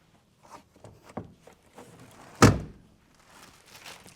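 The cargo floor cover in the trunk of a Kia Sorento X-Line is lowered shut with one sharp, solid thunk. Softer handling clatter and shuffling come before and after it.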